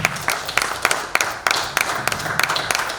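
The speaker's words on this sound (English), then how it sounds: "Let's give ourselves a clap." An audience claps together at a Pan-African awards ceremony, a close, dense patter of many hands with a steady rhythm and sharper individual claps poking through, no voices over it.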